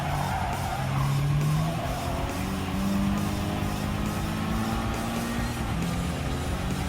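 Honda Civic Type R Limited Edition (FK8) racing through corners on a mountain circuit in Gran Turismo 7, with a steady engine drone and tyres squealing and skidding, continuous and fairly close.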